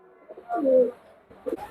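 A pigeon gives a single close, soft, low coo, followed by a brief second note.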